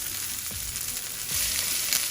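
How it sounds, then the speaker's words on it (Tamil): Steady crackling sizzle of bitter gourd frying in hot oil, continuous and close, with a few soft clinks and a slight swell in intensity near the end. "ரொம்ப நேரம்லாம் போட்டு பொரிக்க தேவையில்லை"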